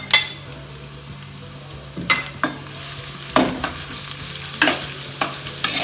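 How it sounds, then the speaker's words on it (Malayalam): Chopped shallots sizzle in hot coconut oil in a pan, a steady frying hiss broken by repeated stirring scrapes and clatters at close range, with no voices. "ഈ ചൂടായ എണ്ണയിലോട്ട് ഒരു 7 സാമ്പാർ ഉള്ളിയല്ലേ, അതരിഞ്ഞത് അതിട്ട് കൊടുക്കാം"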